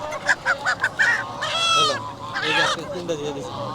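Native roosters and chickens at a poultry market in Kuwait, with several short squawks and honk-like calls in quick succession up close, followed by longer harsh crowing cries, heard over market background murmur.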